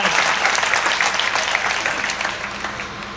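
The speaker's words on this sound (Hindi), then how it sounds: "एक बार पूरा सदन ढंग से तालियां बजा कर बता" Dense audience applause at a Hindi comedy poetry gathering, a steady wash of many hands clapping together, loud and sustained, tapering slightly toward the end.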